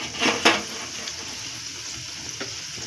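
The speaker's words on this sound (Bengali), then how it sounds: "আর এইভাবে ডুবো তেলেই ভাজতে হবে।" Yogurt paratha deep-fries in a pan of oil, giving a steady fizzing sizzle with a couple of louder splashy bursts near the start, close and without talk.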